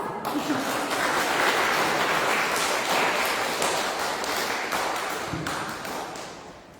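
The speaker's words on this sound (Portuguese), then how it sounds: "Nós podemos acolhê-lo já com uma salva de palmas?" A church congregation applauds to welcome a visiting pastor during a Reformation service: dense, sustained clapping from many hands, loud at first and gradually tapering off.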